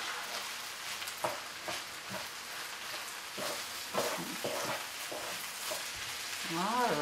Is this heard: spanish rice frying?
yes